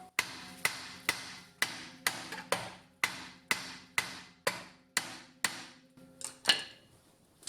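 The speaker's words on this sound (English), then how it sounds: "We'll give the disc a bit of a smack just to free up some corrosion." Repeated sharp metallic hammer blows on a corroded BMW E90 rear brake disc, about fifteen evenly spaced strikes, each ringing briefly before the next, close and clear with no talk.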